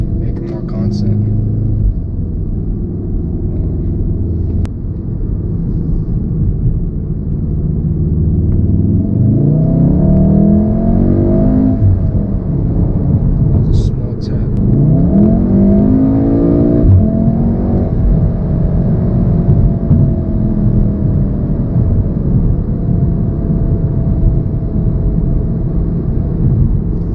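A stock Volkswagen MK7 Golf R drives along with a loud, steady engine rumble, rising and falling revs and a couple of upward acceleration sweeps, heard from inside the cabin with a person talking over it.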